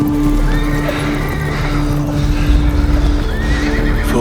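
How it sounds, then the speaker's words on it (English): A horse gallops with rapid clip-clop hoofbeats and lets out whinnying neighs, loud and close throughout. "Borg had already mounted a horse and ran away like a stray dog"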